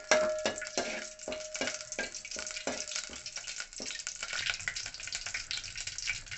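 Whole spices, cloves, cinnamon stick and bay leaf, frying in about four tablespoons of hot oil in a pot, a steady close sizzle broken by rhythmic stirring scrapes, no voices.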